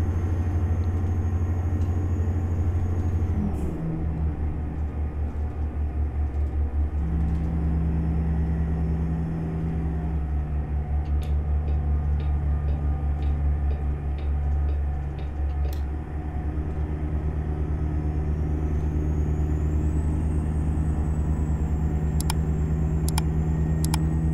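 In American Truck Simulator, a NASCAR team hauler truck pulling a Featherlite trailer drones along at steady highway speed, its deep engine hum and low rumble continuous, with the pitch shifting at a few points and faint clicks scattered over the top.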